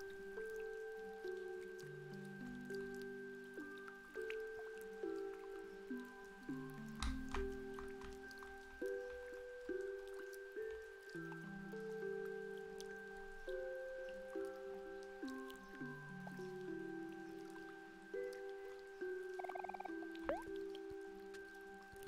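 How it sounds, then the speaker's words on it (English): Rain patters on an umbrella in the game OMORI, faint soft drips and taps under a quiet, shifting low musical tone that runs throughout. "You remembered the sound of falling rain as it hit your umbrella."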